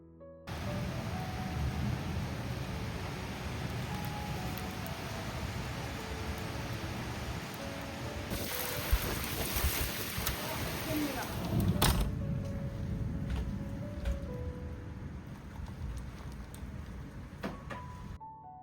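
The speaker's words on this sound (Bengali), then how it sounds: "এখন এই যে বৃষ্টি শুরু হয়েছে, প্রচুর হাওয়া দিচ্ছে" Rain falling in a strong gusty wind, a dense steady hiss that swells louder partway through, while someone speaks over it.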